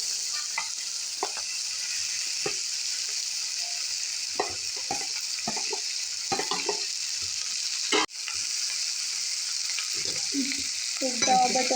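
Mashed potatoes for pav bhaji fry in a pan under a constant soft sizzle, with repeated scraping and squelching stirs of a spatula and a sharp knock near the middle; no talk.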